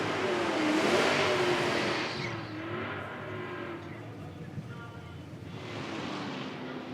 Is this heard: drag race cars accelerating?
yes